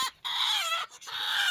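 A hen with her chicks inside a covered goat-farming shed gives continuous high, bright peeping and clucking, close and fairly loud, broken by two brief pauses.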